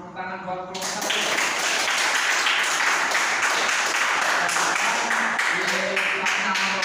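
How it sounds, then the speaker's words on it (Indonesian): Classmates applauding a student group in a classroom, a voice briefly heard first before a sudden burst of many hands clapping that stays loud and steady, with talk faintly underneath toward the end. "tepuk tangan buat kelompok 1"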